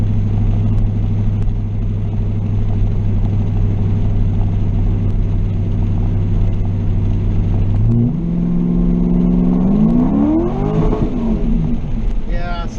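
A car with a Chinese-built Corvette-style drivetrain and a freshly installed transmission shift kit holds a loud steady engine drone, then revs climb and sweep upward as it fails to drop into second gear, loud and close throughout.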